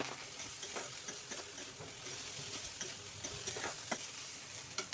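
Chopped banana flower fries in a pan with salt and turmeric, giving a steady soft sizzle with faint stirring clicks, heard up close at a low level.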